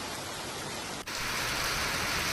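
Monsoon rain pours down in a steady, loud, even hiss with no pauses, briefly dipping for an instant before returning slightly stronger.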